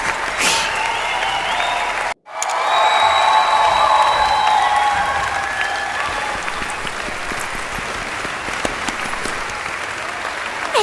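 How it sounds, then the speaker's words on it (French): Audience applause in Final Fantasy VII Rebirth, a brief clap then a short cut, followed by sustained crowd clapping with light cheers that slowly fades. "Tu veux bien applaudir pour moi, s'il te plaît?"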